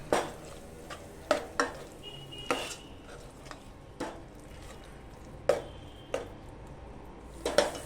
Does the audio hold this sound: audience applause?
no